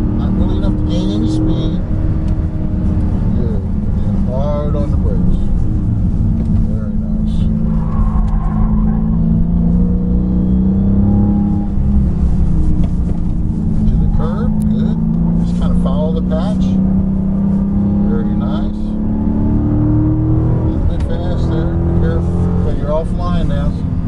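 A 2015 Dodge Charger SRT on the Summit Point Motorsports Park race track: a constant loud, low engine rumble with rising and falling revs through corners and braking, while people talk over it throughout.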